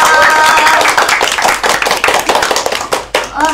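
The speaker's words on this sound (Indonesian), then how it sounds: "Beri aplaus buat Noval." A classroom full of students applauding a fellow student, a loud burst of dense clapping that thins out over a few seconds.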